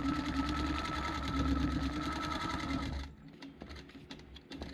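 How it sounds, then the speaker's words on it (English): Longarm quilting machine stitching in the ditch on a quilt top, a fast steady mechanical whir and needle chatter that runs loud and close, then drops away into quieter intermittent clicks near the end. "I'm starting in the center of the block again and trying to do the best I can to stitch in the ditch."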